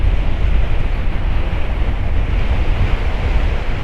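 Strong wind roars with crashing surf along the Paphos seafront after a November storm, a dense, loud, unbroken rush of wind and waves with buffeting on the microphone.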